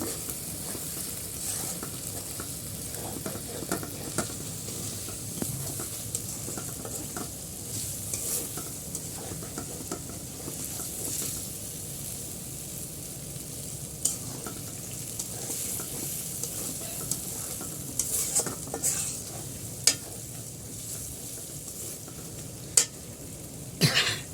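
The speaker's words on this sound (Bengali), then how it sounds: "মাছগুলো ভালো করে কষানো হয়ে গেছে" Hilsa fish heads sizzle steadily in a pan while a spatula stirs and scrapes them repeatedly, with sharper metallic clinks and knocks toward the end, all close by with no talking.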